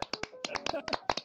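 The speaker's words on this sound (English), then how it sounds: "this clap was made for an MMC" A polite clap effect in a metaverse game world sounds as a quick run of light, dry claps in an irregular patter, with a voice speaking faintly alongside.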